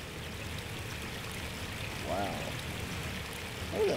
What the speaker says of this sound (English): Look at that waterfall though.